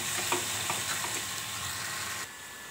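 Fish fat sizzles in a hot pan, a dense close crackling hiss with faint stirring that drops off abruptly near the end, with no voices.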